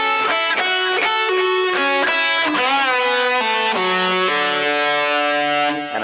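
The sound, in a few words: distorted electric guitar playing a phrase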